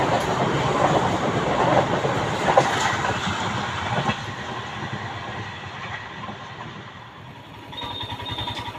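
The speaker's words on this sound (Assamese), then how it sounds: "এয়া দেখিছে ট্ৰেইন আহি গ'ল" A train rolls past close by with a heavy rumbling clatter and rhythmic clickety-clack of wagons that slowly fades, and a high squeal rises near the end.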